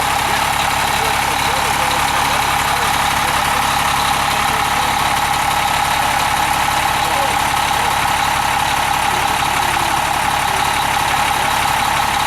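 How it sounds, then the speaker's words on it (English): A 1997 motorhome's 450 cubic inch Cummins diesel engine runs with a loud, steady idling rumble that holds evenly throughout, close by, with a voice faintly under it. "This man, Mike, just put on a new starter to his 1997 motorhome. 450 cubic inch Cummins diesel"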